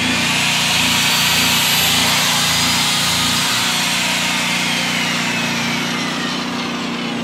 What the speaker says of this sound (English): if I pull the trigger on this 15 amp skill saw, you'll get a little sputter at first and it'll recover